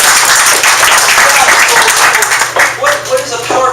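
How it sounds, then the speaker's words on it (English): A crowd at a business networking launch event in Modesto gives a sustained round of applause for Sal. The clapping is loud and dense throughout, and voices murmur beneath it. "So give Sal a big round of applause for that."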